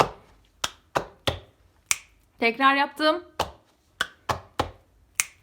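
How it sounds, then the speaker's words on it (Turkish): Body percussion rhythm of floor taps, hand claps, slaps on the back of the hand and finger snaps, played as a sequence of sharp, close, distinct hits with a short spoken phrase in the middle. "Yer, alkış, yer, elimin üstü ve parmak şıklat."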